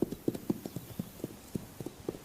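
Hooves of wild horses on the Pryor Mountain Wild Horse Range clip-clop in a steady, evenly spaced walking rhythm, close and clear with little else around.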